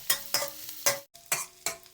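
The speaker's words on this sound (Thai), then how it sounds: "ผัดหอมแดงให้พอส่งกลิ่นหอมก่อนนะครับ" Quick scraping strokes of a utensil stir chopped shallots in pork fat in a hot pan, repeating in a rough rhythm over a steady sizzle.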